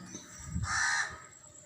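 A crow gives a single harsh caw, fairly near and clear, rising out of quiet background with a faint low rumble before it.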